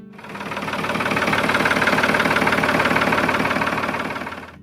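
Ford 4000 tractor engine running steadily, a loud, close, rhythmic diesel chug with a rough knocking pulse that swells and then fades, no voices.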